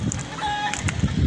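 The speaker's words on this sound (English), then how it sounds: "Bloody chickens." Chickens clucking close by in a backyard coop, a few short scattered clucks and squawks over light background noise, with no talk.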